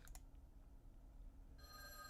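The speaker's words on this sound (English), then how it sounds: "The phone rang." A telephone in a lone phone booth beside a graveyard rings faintly near the end, a steady electronic tone that starts after a short, quiet stretch.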